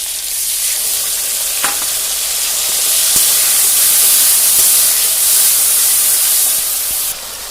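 A ground spice masala with tomato, salt and poppy seed paste fries in oil, a loud, close, continuous sizzle and hiss broken by a few scraping stirs, easing off briefly at the end.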